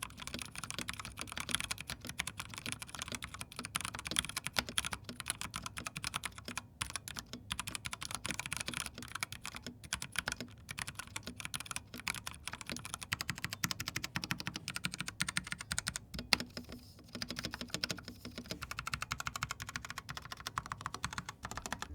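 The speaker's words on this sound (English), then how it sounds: "what really matters for mechanical keyboards, how do they sound?" Rapid, continuous clacking of keys on a mechanical keyboard, close and crisp, with steady irregular rhythm and no talking.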